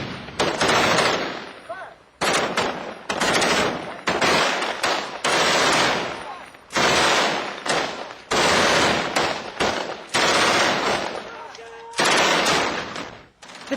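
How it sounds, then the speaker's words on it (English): Heavy machine gun fire erupts in bursts during a Marine firefight with insurgents, loud close rattling volleys separated by brief gaps, with voices faintly mixed in between. "The heavy fire keeps the insurgents' heads down."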